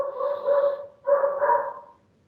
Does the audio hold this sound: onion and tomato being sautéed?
no